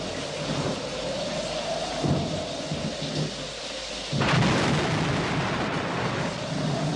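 A heavy downpour hisses steadily while low thunder rumbles and swells, growing noticeably louder about two-thirds of the way through.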